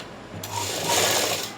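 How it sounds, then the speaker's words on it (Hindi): Sewing machine stitching the seam of a straight pant, a fast continuous whirring run starting abruptly and holding steady, close up with no voices. "इसको फिर अब सिलाई लगा।"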